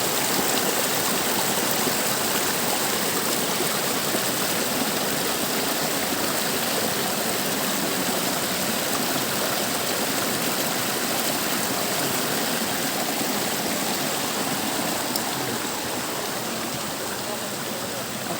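A river stream flows steadily over rocks, a loud, continuous broadband rush of water that stays even and close throughout, with no other sounds standing out.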